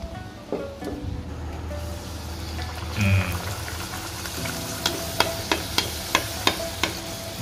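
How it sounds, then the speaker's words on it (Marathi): Puris deep-fry in hot oil with a steady bubbling hiss. Near the end, a run of sharp, evenly spaced taps from a utensil joins the frying. "आता आपण तळून घेऊया पुऱ्या"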